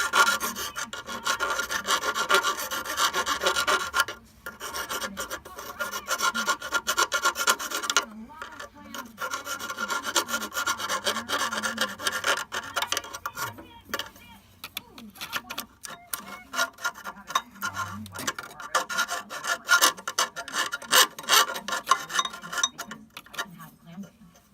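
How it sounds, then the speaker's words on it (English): A file works the burr off a metal fitting on a hydrostatic power steering reservoir, making repeated close, raspy strokes in bursts with short pauses between them. "And just take the burr off it."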